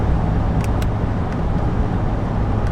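Chevy Silverado 1500 with a 5.3L V8 cruising at 65 mph, a steady broad road and engine rumble with tire roar inside the cab, loud and unchanging throughout, with a couple of faint ticks.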